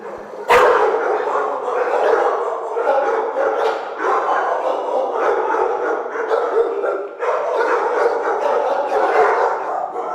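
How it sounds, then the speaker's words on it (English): A blue pit bull dog barks in a rough urban setting, its bark rising sharply at the start and then blending into a continuous murmur of voices and street noise that runs loudly throughout. "This blue pit bull color type that's very popular. And he is a pretty aggressive dog."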